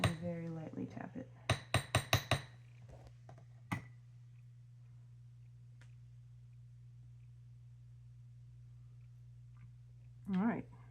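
A round face hammer lightly taps a wire loop, giving a quick burst of about five bright metallic clinks followed by a couple of isolated taps, near and crisp over a steady low hum, with speech at the start and end.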